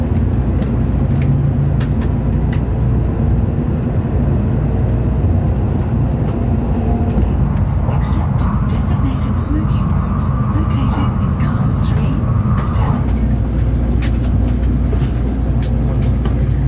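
A Japanese bullet train carrying riders toward Yokohama gives a steady, loud low rumble and rolling hum throughout, with a brighter whirring rising in the middle stretch and voices faintly present in the carriage.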